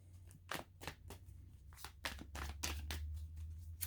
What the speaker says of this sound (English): I just keep shuffling